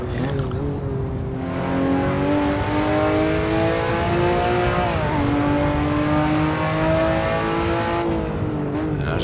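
A race car in the Assetto Corsa sim on the Bannochbrae track roars continuously at close range, its engine whine climbing and dipping with gear shifts and a brief pass-by drop in pitch, with no voices.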